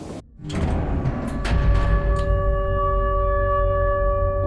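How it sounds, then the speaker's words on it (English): Train rolling along the tracks in the horror video game Garten of Banban 8, a loud sustained rumble with steady tonal whine lines and a few sharp clanks early on, holding even to the end. "Why'd the train stop?"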